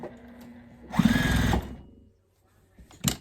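A sewing machine stitches to the end of a quilted table runner in one short burst of rapid mechanical whirring, close and fairly quiet, followed by silence and a brief clunk.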